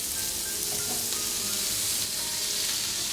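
Cornish sardines (pilchards) fry in hot oil in a pan, giving a steady, close hiss and sizzle with small spits and pops, heard alone without talking.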